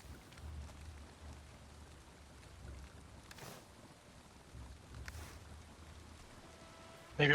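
Rain falls steadily over a swamp in the video game Valheim, a soft continuous patter with faint low rumbles and brief brighter swells, ending in a sudden louder burst.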